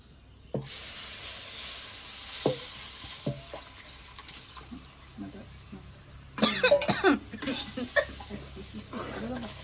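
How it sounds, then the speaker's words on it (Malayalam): Several sharp coughs scattered across the clip, a couple spaced early and a harsher burst near the end, over faint sizzling and hiss of Kerala-style fish curry cooking. "നമ്മുടെ ക്യാമറാമാന് നല്ലതുപോലെ ചുമ വന്നിട്ടുണ്ട്."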